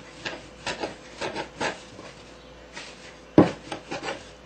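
Chapati dough being rolled out on a floured surface, giving soft repeated rubbing and rasping strokes in an uneven rhythm with one sharper knock near the end, close and moderately quiet, with no talking.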